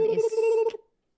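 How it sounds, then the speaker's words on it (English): A single telephone ring from the 1996 horror film Scream, a steady electronic warble that sounds clearly for under a second before cutting off into silence. "the ringing of the phone is"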